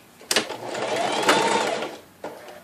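A sewing machine stitches a facing into a tie, following a marked line to close the miter. It runs in one steady burst of about two seconds after a sharp start, then stops with a short click at the end, close up and alone.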